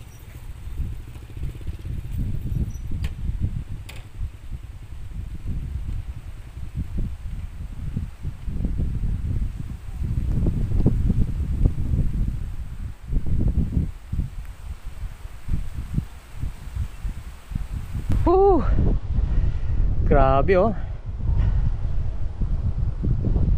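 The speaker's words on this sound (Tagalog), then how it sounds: "Lakas ng hangin ha." Strong wind gusts across an outdoor spot with slippery, muddy ground, a continuous low rumbling buffet against the microphone. A brief voice exclaims, and a few sharp whistling tones rise near the end.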